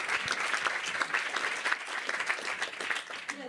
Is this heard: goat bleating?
no